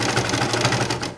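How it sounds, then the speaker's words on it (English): A serger sewing machine stitches the rows of a bath mat together, running continuously with a fast, steady mechanical whir and rhythmic needle chatter that stays close and loud throughout. "Now I'm sewing my vertical rows together, basically about the same way."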